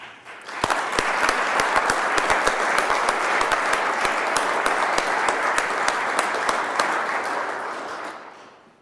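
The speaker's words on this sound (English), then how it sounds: "the Senate would like to give him a round of applause" Applause fills a Senate chamber as members clap for several seconds, a sharp, sustained burst of many hands with a few distinct louder claps, starting abruptly and then fading out.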